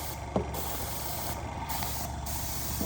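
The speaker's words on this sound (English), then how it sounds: "we've just finished doing the airbrushing of the rails and the sleepers" An airbrush sprays paint onto model railway rails and sleepers with a close, steady hiss, broken by a couple of brief pauses in the spray.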